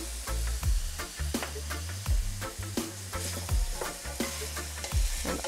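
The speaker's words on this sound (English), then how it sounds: "And all the ingredients mixing together. Nice and easy, and stir it up." Ackee and saltfish with tomato being stirred in hot oil in a pan, steady sizzling frying under repeated scraping strokes of the spoon, close and continuous.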